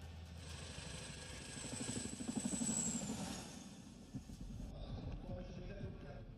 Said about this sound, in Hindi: चॉपर के नीचे 3 हुक लगे हैं जिनकी मदद से शिनूक हेलीकॉप्टर 11 टन तक का वजन उठा सकता है